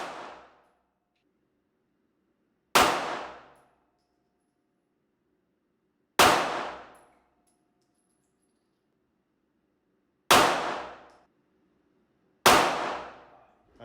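Five sharp, loud pistol shots fired at a target with an Aimpoint Acro P-2 red dot sight, spaced a few seconds apart, each a crisp crack with a quick decaying ring and silence between.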